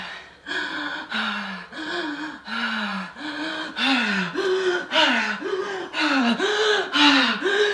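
Someone in a therapeutic breathwork session takes deep, forceful breaths, a regular series of about a dozen loud gasping inhales and exhales heard up close with no talking.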